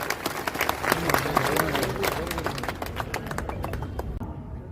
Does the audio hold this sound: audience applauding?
yes